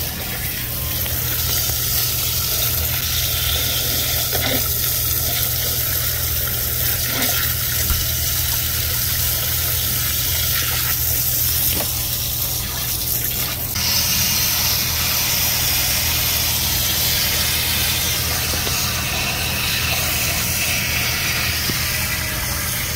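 Warm water is poured over an iced-up, plugged drain pan inside a frozen-food display case, making a steady rushing, sizzling wash that runs continuously under a constant mechanical hum. No one speaks.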